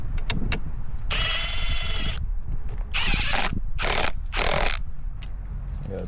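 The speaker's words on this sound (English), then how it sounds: "You gotta tighten all this up." A ratchet wrench tightening bolts during a 1.5-inch lift kit and leveling kit install on a mini truck, heard as several loud bursts of rapid clicking separated by short pauses, close to the microphone.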